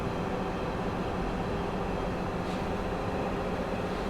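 Siemens Desiro diesel train in a video game, a steady, loud, continuous engine and rolling rumble throughout with no voices.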